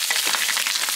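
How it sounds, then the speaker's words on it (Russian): Dorado fish frying in a pan, a dense steady sizzle of hot oil with small crackles and pops throughout, close and fairly loud, with no voices. "жарит рыбку. У нас дорада сегодня."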